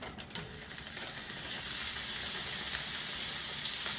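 Pre-cut chicken strips sizzle steadily in a hot cast iron pan, a dense, even frying hiss after a brief initial clatter, close and continuous with no talking.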